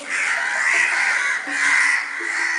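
A crow caws loudly and close, three harsh rasping calls in quick succession.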